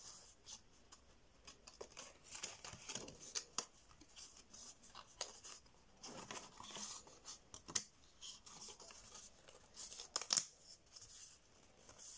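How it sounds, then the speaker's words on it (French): Scissors make a series of quick, crisp snips as they cut the corners of paper for a scrapbook album. The cuts come close and fairly quiet, in irregular bursts. "On coupe un peu les angles."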